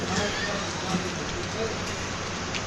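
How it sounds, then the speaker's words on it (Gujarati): Steady wash of rain falling, a dense hiss with scattered drips, continuous and fairly close for a few seconds. "વરસાદ ચાલુ છે મિત્રો"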